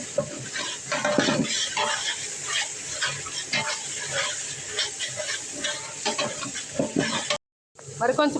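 Biryani ingredients with mint fry in a pot, a continuous sizzle broken by repeated scraping and stirring of a utensil against the metal, with clinks near the end and a brief dropout.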